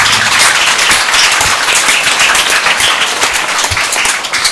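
Loud congregation applause fills a Baptist church during a Sunday morning service, many hands clapping vigorously and close in a dense, continuous roar that holds steady throughout.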